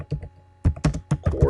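Typing on a computer keyboard while entering text into a spreadsheet text box, a few quick close clicks in small bursts separated by brief gaps.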